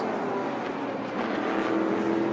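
Race cars at the 2014 Rolex 24 at Daytona, including a Ford EcoBoost twin-turbo V6 prototype, make a steady, fairly distant engine drone with a whining pitch that climbs slightly toward the end.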